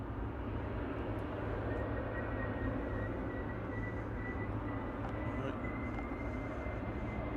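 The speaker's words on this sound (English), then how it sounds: "EasyJet 707 to Belfast, GZUI A320 Classic" An easyJet Airbus A320 Classic, registration G-EZUI, departs Manchester Airport for Belfast. Its engines give a steady, distant broadband roar that holds at an even level throughout, with a faint tonal whine running across the middle.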